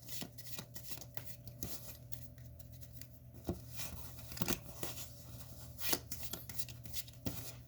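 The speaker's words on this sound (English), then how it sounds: "So let me go ahead and shuffle that." Playing cards from a Marvel Champions card game are shuffled by hand, producing soft repeated riffling and patter with a few sharper snaps and clicks, close and fairly quiet, with no voices.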